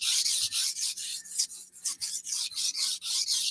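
Steel knife blade drawn repeatedly across a sharpening stone, a steady run of bright rasping strokes in quick rhythm, close and fairly loud with no talking.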